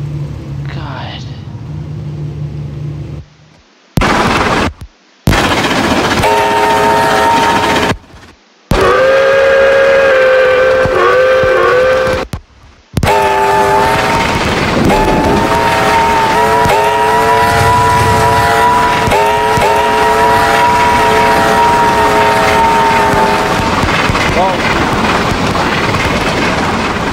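QJ class steam locomotive hauling a coal train, with prolonged loud harmonic whistle blasts over a continuous rumble, broken by several abrupt cuts to silence.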